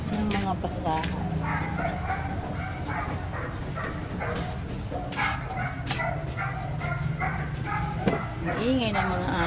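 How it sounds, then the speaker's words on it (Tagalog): Several dogs bark and yip near a rooftop garden, in repeated sharp bursts with occasional whimpers, while a person keeps talking over the barking. "Ingay ng mga aso."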